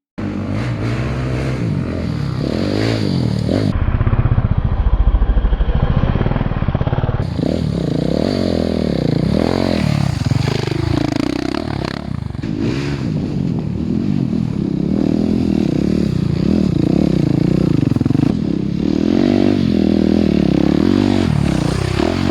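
A 2021 KTM 690 Enduro R single-cylinder motorcycle rides close by, its engine loud and continuous throughout, with repeated revving swells, throttle changes and some clattering from the ride.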